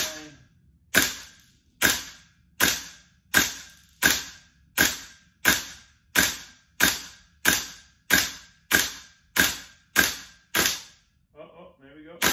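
Gas blowback airsoft rifle firing during a freezing test at -14.4C, about fourteen sharp, loud, evenly spaced shots with short decaying tails, followed by faint mechanical clicking at the end.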